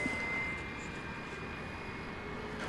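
A plane at DFW Airport at night makes a steady broadband engine roar with a faint constant whine, heard at a moderate distance without breaks.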